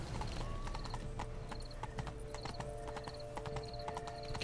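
Game horse hooves cantering in The Witcher 3: Blood and Wine, a loud, steady clip-clop rhythm close up, with bright tack jingles and a brief whinny layered over it.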